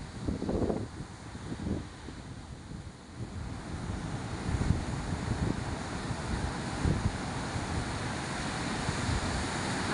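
Ocean waves and gusting wind at a seashore after a typhoon, with a steady roar of surf and wind buffeting the microphone throughout, broken by heavier wave crashes.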